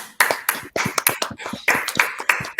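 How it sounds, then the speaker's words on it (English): Participants at an online humanity summit clap in a loose scatter of sharp, separate claps, several hands striking at uneven intervals over a couple of seconds, fairly close and clear. "Now let's give ourselves a round of applause for entering in the era of the metaverse"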